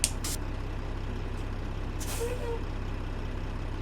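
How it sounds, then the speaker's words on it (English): Short sharp hisses of a truck's air suspension purging in American Truck Simulator, a couple of quick bursts near the start and another around two seconds, over a steady low engine hum. "see how you can hear the air purge when I hit the"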